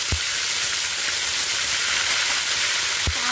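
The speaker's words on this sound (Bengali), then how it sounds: "আলুর দমটা যেহেতু নিরামিষ সেহেতু একটুখানি হিং দিয়ে দিলাম তেলের মধ্যে।" Asafoetida and spice pastes frying in hot oil for vegetarian aloo dum, a steady loud sizzle throughout with a couple of soft stirring knocks.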